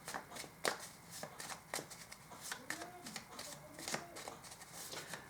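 Printed oracle cards, slightly sticky and not true playing-card stock, shuffled by hand in a steady run of soft riffling flicks and slaps, fairly close and quiet, with faint background murmur.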